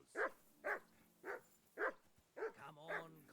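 Dog barking in Kingdom Come: Deliverance 2, a medieval role-playing game: six evenly spaced barks of moderate loudness, with a low droning tone underneath toward the end.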